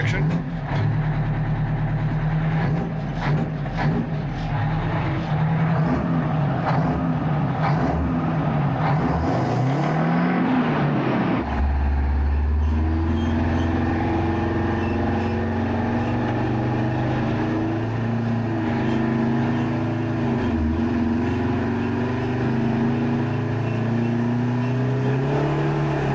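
A Detroit diesel engine runs in a factory four-wheel-drive vehicle, rumbling steadily and loudly throughout, revving in the first half and then settling into a lower, steady drone with voices underneath.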